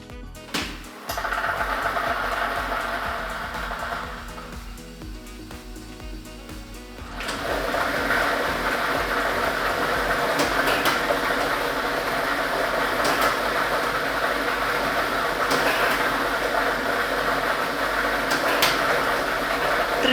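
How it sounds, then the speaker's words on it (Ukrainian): Lottery drawing machine with a set of numbered balls switched on for a Loto Maksyma draw, a steady mechanical whir with dense rattling that rises and fills the sound after a quieter start, continuous and close, with no talk. "Тиражна комісія до початку гри довільно обрала лототрон А комплект кульок номер 1 І ми вмикаємо лототрон."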